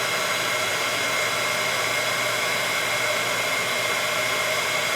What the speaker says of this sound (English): now I'm just going to grab my heat gun. I'm going to get it nice and warmed up.